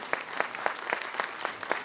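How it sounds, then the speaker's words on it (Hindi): An audience at a conference in Agra claps in response to a speaker, giving uneven, fairly sparse hand claps that continue steadily through the short stretch, with no talking over them. "तो स्वामी जी के लिए ताली बजाओगे कि नहीं बजाओगे?"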